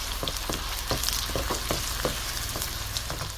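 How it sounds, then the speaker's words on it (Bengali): Whole spices such as cinnamon, cardamom and bay leaf crackle in hot oil up close, a continuous sizzle punctuated by sharp popping bursts at an uneven rhythm. "আমার তেল গরম হয়ে গেছে, এখন আমি গরম মশলাটুকু দিয়ে দিলাম, দারচিনি, এলাচি, তেজপাতা টুকু এখন দিয়ে দিলাম"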